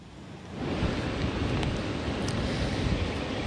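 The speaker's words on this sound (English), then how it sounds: "quite the dramatic scene here on the coast in Marshfield. The waves looking scary but beautiful" Ocean waves crash on the coast at Marshfield during a nor'easter, a steady, loud roar of surf mixed with wind, continuous and without speech.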